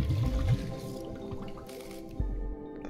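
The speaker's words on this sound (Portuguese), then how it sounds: "Falta encher de água isso aqui." Water fills a container in the GNOG puzzle video game, a bubbling, dripping trickle with soft squishy plops over a low musical hum, fairly quiet and without talking.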